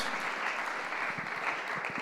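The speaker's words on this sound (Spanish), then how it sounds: "Denle ese aplauso fuerte al Señor." A church congregation at a Spanish-language Sunday service applauds loudly, a steady dense wash of clapping that fills the room without pause.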